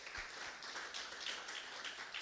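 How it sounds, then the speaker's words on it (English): An audience at a business innovation summit in Nigeria applauds a pastor's 20th marriage anniversary: steady, faint, distant clapping fills the short moment with no voices over it. "Please clap for him."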